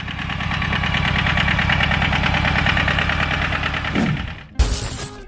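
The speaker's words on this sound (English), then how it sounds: "the deep, deep engine sound of a John Deere 650" A John Deere 650 tractor engine idles with a deep, steady chugging rumble, then briefly changes and ends with a sharp clunk and hiss.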